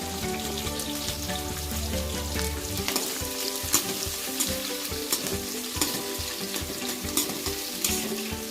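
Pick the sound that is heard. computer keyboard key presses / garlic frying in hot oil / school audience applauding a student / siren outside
garlic frying in hot oil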